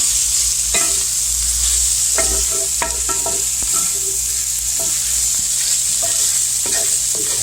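Wide glass noodles and perilla leaves stir-fried in a hot pan for vegetable pork intestine, a steady sizzle under sharp, irregular scrapes and clacks of the stirring utensil, close and alone with no voices.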